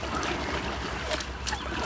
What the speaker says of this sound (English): And we're gonna back paddle, kind of show you.